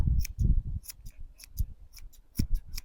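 Scissors snip through a dog's fur around the bottom during an at-home groom, a series of close, quick crisp cuts in an uneven rhythm with no talking.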